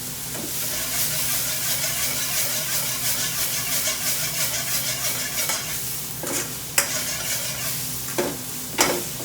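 Mushrooms fry in oil in a pan for restaurant-style pilau rice, giving a loud, continuous close-up sizzle with a few sharp clinks and scrapes near the end, no voices.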